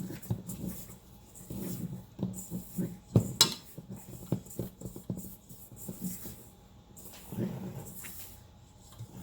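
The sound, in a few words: hand mixing bath bomb powder in a bowl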